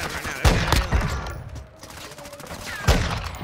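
Video game gunfire: loud bursts of several rapid shots near the start, a quieter stretch, then another sharp close burst near the end, with voices briefly talking in between.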